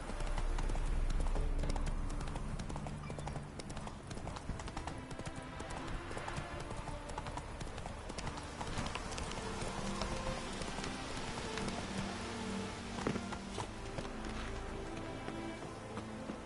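Horse hooves gallop in The Witcher 3, a fast steady clip-clop rhythm running throughout over faint rain-like ambience, with no voices.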